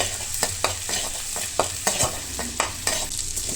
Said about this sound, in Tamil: அதே கடாயில் பட்டர் சேர்த்து, பட்டர் நல்லா சூடானதும் அதில் இஞ்சி பூண்டு பேஸ்ட்டு சேர்க்கணும்.